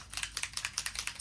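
A walnut stain spray bottle being shaken rapidly, producing a steady rattling series of about a dozen quick, sharp clicks close to the listener, fairly faint, with no talking.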